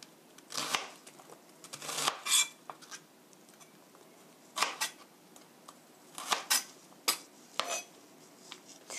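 A kitchen knife taps and chops through zucchini and beef on a cutting board for stew, sounding as scattered sharp clicks and knocks, close and fairly quiet, with short pauses between cuts.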